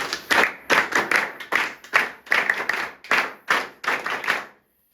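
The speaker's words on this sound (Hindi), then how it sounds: "एक बार फिर तालियां" A small group clapping in uneven bursts, loud and close, with brief pauses between rounds before it stops.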